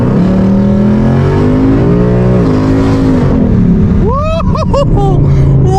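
A wrecked Ford Mustang with loose, badly misaligned running gear revving and pulling away, a loud close engine drone rising and dipping in pitch, then sharper whining rises near the end.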